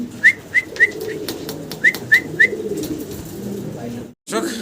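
A pair of fancy pigeons coo in a series of short rhythmic calls, close by, over a low murmur of background noise and voices.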